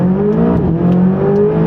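McLaren 570S sports car engine accelerating hard, a loud, steady rising drone with strong harmonics that dips briefly mid-run and then climbs again, close and unbroken throughout.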